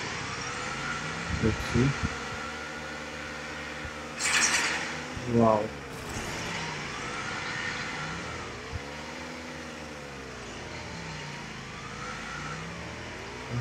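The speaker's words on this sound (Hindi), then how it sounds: "ये बाइक है, चलो बाइक ट्राई करते हैं।" Motorbike engine in the PUBG video game, a mid-pitched drone that rises and falls in pitch as the bike accelerates and slows, with a few sharp bursts, under someone talking.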